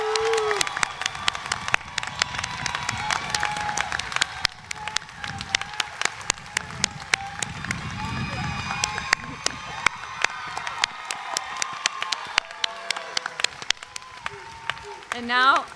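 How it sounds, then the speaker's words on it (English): An audience at the Guilford College 2025 commencement applauds the graduating class, a long, sustained wave of clapping with scattered cheers and voices, loud and close for the whole stretch. "Would everyone please join me in another round of applause for this wonderful class of"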